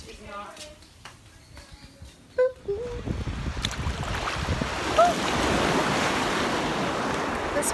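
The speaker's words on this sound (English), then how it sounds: "We're going to the beach." Ocean surf rolls onto a beach in Maui, a broad roar that builds and then stays loud and steady, with wind buffeting the microphone and people talking briefly at the start.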